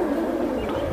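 Silver Giribaz pigeons cooing steadily at close range, a low soft murmur filling the whole moment without pause and with no voices over it.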